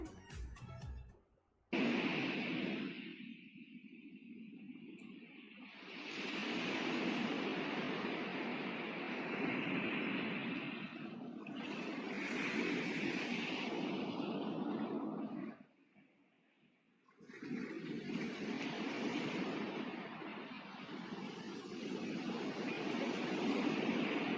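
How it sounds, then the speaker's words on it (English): Ocean waves roar in a steady, broad wash that swells and recedes, with a brief lull partway through and a short gap early on, heard alone without talk. "That is the sound of waves."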